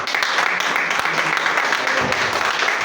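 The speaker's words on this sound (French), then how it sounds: "Acclamons pour le frère Josué." A church congregation applauds and cheers for Brother Josué, a dense, loud, continuous wash of clapping with voices mixed into it.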